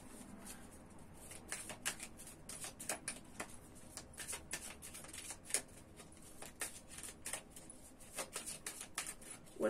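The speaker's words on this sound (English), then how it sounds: "So let's continue to shuffle and see what else we can find." Tarot cards being shuffled by hand in a quick, crisp flurry of riffles and slaps, soft and close, continuing alone for several seconds.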